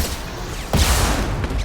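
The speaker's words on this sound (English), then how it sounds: "Oh, so many rockets." Rockets firing and exploding in the video game Mass Effect 2, a sudden loud blast after a rumbling, noisy battle background, close and heavy with a lingering roar.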